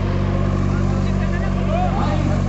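A Mahindra 575 DI XP Plus and a Swaraj 855 tractor idle between rounds of a head-to-head contest, a low, steady diesel drone with someone talking over it.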